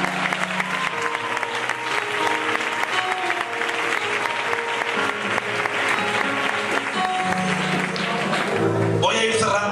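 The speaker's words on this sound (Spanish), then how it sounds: "Le damos al Señor un aplauso," A church congregation claps in sustained applause under music and voices, loud and continuous throughout.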